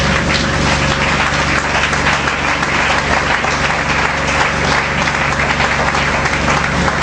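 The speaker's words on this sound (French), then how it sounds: "on acclame pour la parole du Seigneur" A church congregation applauds together, sustained loud clapping from a large crowd that stays dense and even for several seconds.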